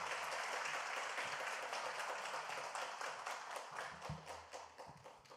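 A church congregation at an autumn revival meeting gives warm, sustained applause welcoming a pastor to the pulpit, dense and even at first, then thinning into scattered claps toward the end.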